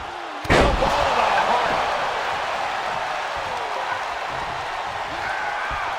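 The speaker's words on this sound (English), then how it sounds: "Closing the ambulance doors" Ambulance doors slam shut at ringside in a WWE SmackDown wrestling arena: one loud, sharp bang near the start, then a steady crowd roar fills the rest.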